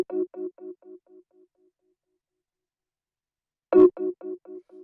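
A simple synth chord layer built from two sine waves plays a short run of soft, pure, bell-like repeated tones that fade away, then restarts after a pause with a brighter attack, clean and alone.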